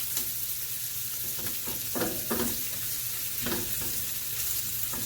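Peppers and shrimp for homemade shrimp fajitas sizzle steadily in a pan. A utensil stirs and scrapes them in a few distinct strokes over the constant frying hiss.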